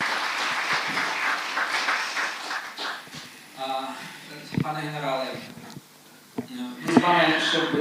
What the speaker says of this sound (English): So thank you. Let's applaud.